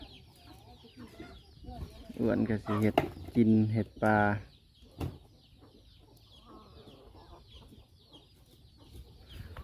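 A large flock of farmyard chickens clucks in a loud cluster of calls midway, with quieter clucks and movement around it and people talking nearby.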